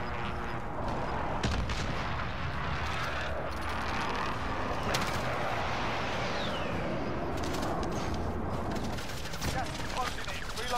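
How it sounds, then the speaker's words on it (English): Precision airstrike explosions in Call of Duty Warzone, a dense continuous barrage of blasts and gunfire rumbling throughout, with game voice callouts over the top. "Friendly precision airstrike inbound."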